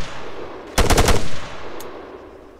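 Enemy gunfire in Arma 3, a short loud automatic burst of about half a second of rapid shots, followed by fading echo and a single faint distant report.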